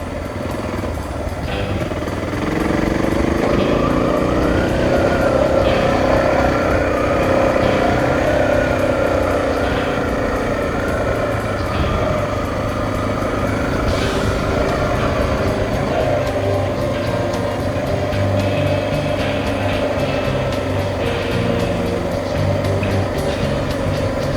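A Honda XR600R dirt bike thrums steadily in second gear on a trail ride near Rock Creek, its loud single-cylinder engine droning close and continuous with only minor swells in revs.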